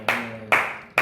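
Three sharp single hand claps spaced about half a second apart, loud and close, marking beats in a rap recording, with no voices over them.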